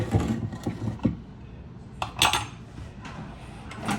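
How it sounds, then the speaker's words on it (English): Tablespoon of butter scooped and dropped into a dish, giving a few clinking spoon and cookware knocks, with sharper taps near the start, middle and end over a quiet kitchen background. "I'm going to put tablespoon of butter."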